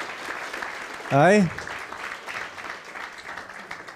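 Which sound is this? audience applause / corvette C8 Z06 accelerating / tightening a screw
audience applause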